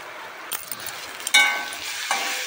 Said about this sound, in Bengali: তো এখন পেঁয়াজটাকে ভালো করে ভেজে নিই